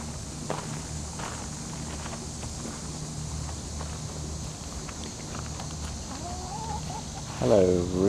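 Chickens and roosters cluck and call nearby from a chicken coop over shuffling footsteps, with a louder, rising call near the end.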